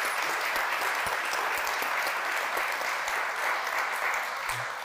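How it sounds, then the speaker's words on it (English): An audience in a studio gives steady, dense applause during a morning talk show, a continuous wash of clapping at even loudness throughout. "Yes, give her a round of applause."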